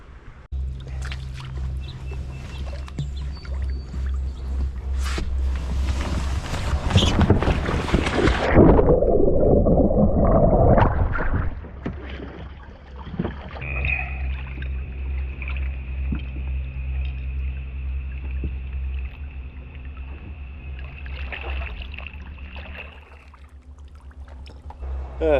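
A kayaker climbs out into the Charles River beside fallen logs, with a burst of close splashing and sloshing water midway, then a quieter stretch of gentle water movement and light wind.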